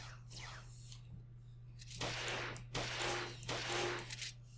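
Bursts of rapid shooting from Touhou DynaMarisa3D, a few dense volleys in quick clusters over a steady low hum, fairly quiet overall.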